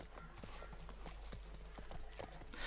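Horse hooves clip-clop in the video game The Last of Us Part I, a quick, uneven run of hard knocks at close range over a low rumble, fairly faint, with a brief snort near the end.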